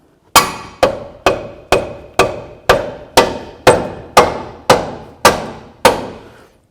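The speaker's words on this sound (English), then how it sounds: "Carefully using a rubber mallet." Rubber mallet tapping a lower control arm ball joint into the steering knuckle of a 2008-12 Chevy Malibu: twelve evenly spaced, firm, close thuds with short decays, no talking.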